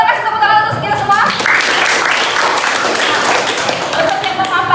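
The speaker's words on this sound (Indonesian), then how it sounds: "Boleh kasih tepuk tangan untuk kita semua?" Classroom applause from a group of students, dense broadband clapping running steadily through the whole stretch, with some children's voices mixed in beneath.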